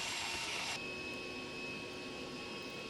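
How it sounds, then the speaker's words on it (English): A woodworking shop's dust collection system roars steadily nearby with an even broadband rush, and a brief louder burst at the start. "How about that fancy dust collection there, that magnetic quick connect?"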